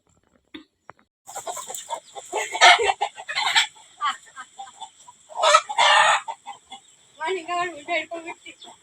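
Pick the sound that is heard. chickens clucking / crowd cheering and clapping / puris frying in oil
chickens clucking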